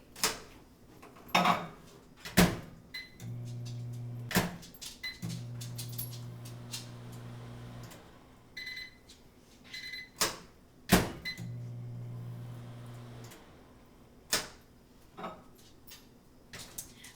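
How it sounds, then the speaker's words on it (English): A low steady hum runs in two stretches between sharp clicks, clunks and beeps, like a microwave starting, running and stopping, heating coconut oil for make-up remover pads. "So I'm just going to go ahead and stick it in my microwave."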